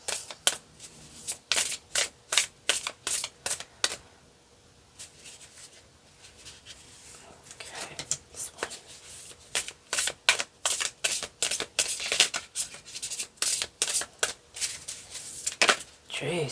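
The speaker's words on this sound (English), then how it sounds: "you want me to shuffle this?" Tarot cards being shuffled in repeated crisp bursts of riffling, with pauses between rounds and a quieter stretch in the middle, close and fairly loud.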